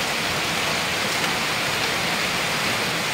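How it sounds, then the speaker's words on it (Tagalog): A constant downpour drums and hisses loudly and evenly, close by and uninterrupted, with no other sounds standing out. "Antay natin tumila yung ulan."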